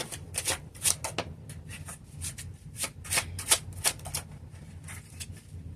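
Tarot cards are shuffled hard and fast, giving a rapid series of crisp riffling bursts, close and fairly quiet, with no talk over them.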